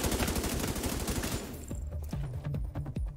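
Gunfire in The Division 2, a loud continuous fusillade of automatic shots that breaks into separate, sharper single and burst shots, with heavy game action around it.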